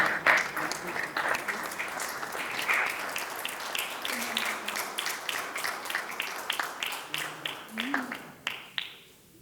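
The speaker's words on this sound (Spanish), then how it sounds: "Un gran aplauso para el matador de toros." Audience at an awards ceremony applauding a bullfighter, full steady clapping that thins out toward the end into a few separate claps, with voices murmuring beneath.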